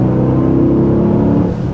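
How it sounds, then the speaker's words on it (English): The V8 engine of a 2024 Mercedes GLS 63 AMG SUV gives a deep, loud, sustained rumble that holds steady and fades slightly at the end. "There's no way you care after hearing that engine note."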